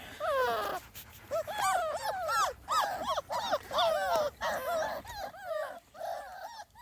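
A litter of 2.5-week-old Small Munsterlander puppies whimpers and squeals in a continuous chorus of high, wavering cries, close and fairly soft, with many short overlapping calls.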